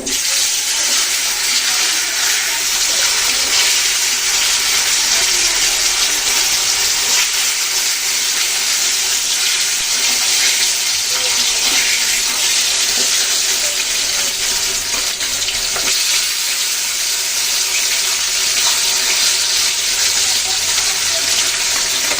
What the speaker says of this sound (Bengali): এখন মাছগুলো ভেজে নিচ্ছি দেখুন তেল গরম হয়ে গেছে মাছ দিয়ে দিচ্ছি